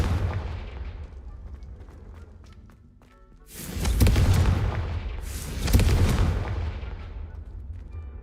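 Bombarda and Confringo explosion spells in Hogwarts Legacy, two heavy booming blasts a couple of seconds apart, each with a deep rumbling tail, after a stretch of quieter rumble.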